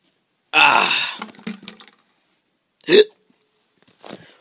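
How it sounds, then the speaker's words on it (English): An animated character hiccups sharply: one loud gulping hiccup, a pause, then a second, with faint voice bits between them in a quiet setting. "Looks like you got a case of the hiccups"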